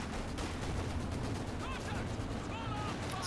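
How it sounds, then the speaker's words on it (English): An anti-tank gun fires at a unit in Company of Heroes, sounding as heavy booming shots amid a dense, continuous wash of battlefield gunfire and explosions over about three seconds, with faint whistling shells. "Sniped by an AT gun, I think."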